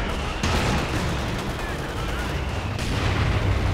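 Battlefield fire in Company of Heroes 2 with mortar half-tracks at work: repeated booms and crackling gunfire in a dense game mix, under faint speech.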